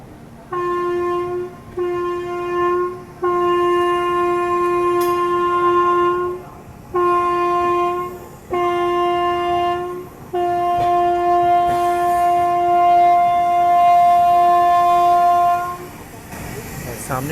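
Train horn of the Chhapra–Surat train at Pandit Deen Dayal Upadhyaya Junction station, sounding as a series of long, loud, steady blasts with short breaks, over platform rumble and faint chatter.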